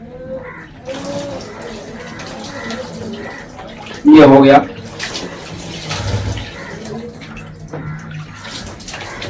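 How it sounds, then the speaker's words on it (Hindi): During a ghusl ritual bath, water is poured straight over the head in one loud, splashing gush lasting about half a second, with someone talking before and after. "सीधा पानी अपने सर पे डालना है"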